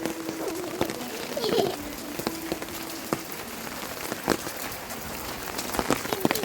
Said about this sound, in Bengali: আবার বৃষ্টি নেমেছে